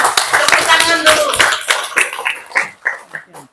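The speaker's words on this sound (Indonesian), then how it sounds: "Tepuk tangan dulu." An audience at a regional working meeting claps for an honoured guest, a scattered run of sharp hand claps that thins out over a few seconds, mixed with a voice speaking over it.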